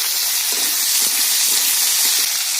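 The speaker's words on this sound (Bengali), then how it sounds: "তেল দিয়েছি আলুটাকে ভেজে নেব" Potatoes fry in hot oil in a pan, cooked until crisp for a mourola fish curry with aubergine, giving a steady, even sizzling hiss throughout with no talk.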